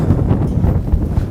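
Strong wind buffets the microphone outdoors on a city street, a steady low rumbling roar that fills the whole stretch with no letup and no voices over it.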